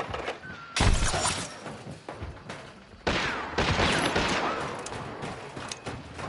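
A bomb thrown in the Hunt: Showdown shooter game bursts loudly amid a chaotic fight, with broadband blasts and crackling debris starting near the one-second mark and again around three seconds, trailing into sustained rumbling gunfire-like noise.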